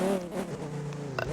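A car engine in the Roblox ER:LC game revs with a steady droning pitch that rises slightly, loud and close, with no talking.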